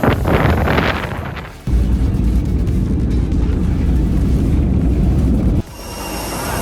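Loud, steady droning roar inside a small propeller plane, with the noise level shifting abruptly twice; no voices.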